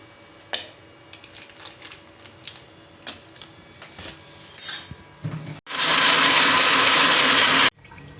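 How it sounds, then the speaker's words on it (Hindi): Ice cubes tumble into a glass for a fresh lime margarita, a few sparse clinks and knocks followed by a loud, steady rush of noise lasting about two seconds. "इसमें अब आइस क्यूब डालेंगे।"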